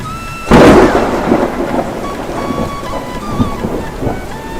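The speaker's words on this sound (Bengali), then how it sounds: "মেঘ ডেকে উঠছে আর বিদ্যুৎ চমকানির ঝলক দেখা যাচ্ছে, আর মুষলধারে বৃষ্টি হয়ে চলেছে।" A cartoon thunderstorm by a riverbank opens with a sudden loud thunderclap, followed by a steady roar of heavy rain that carries on with lingering rumbles.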